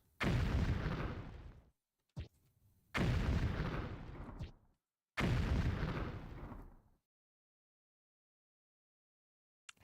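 Three heavy bomb blasts from the video game Terror of Necromancy, each a loud booming burst decaying over a second or so, spaced a couple of seconds apart with a small pop between the first two, then silence.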